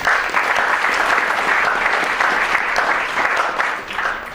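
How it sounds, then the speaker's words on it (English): Steady, dense applause from a lecture audience honoring a nominated student, many hands clapping evenly and fairly loud throughout without a pause. "Again, a round of applause."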